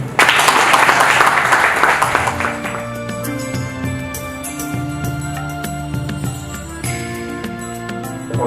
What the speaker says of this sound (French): demander à tout le monde d'applaudir